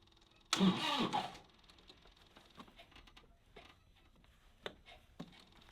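A John Deere tractor engine cranks briefly in cold weather with a loud, rough churning burst of about a second and fails to start. Faint clicks and small knocks follow in the quiet.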